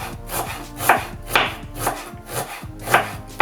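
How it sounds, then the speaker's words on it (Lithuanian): Onions being chopped finely on a board with a knife, the blade striking the wood in a steady, quick rhythm of close, crisp cuts, no voices. "Svogūnus supjausim smulkiai."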